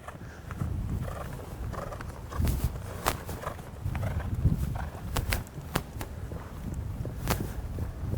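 A horse walks around an arena during a show-jumping riding clinic, its hoofbeats landing as soft, irregular thuds and sharp taps against a quiet indoor background, with no talking.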